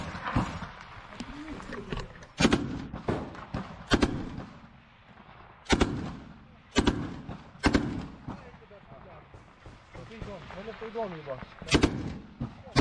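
PKM machine-gun fire in war footage from Ukraine: sharp, loud bursts arrive at irregular intervals, with crackling echoes between them and talk underneath.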